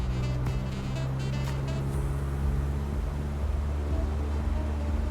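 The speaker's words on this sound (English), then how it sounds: "Now, we're going to hold the brakes. We're going to let the engine spool up." A general aviation aircraft engine in Microsoft Flight Simulator spools up with brakes held before takeoff, giving a steady, loud droning hum that holds constant throughout.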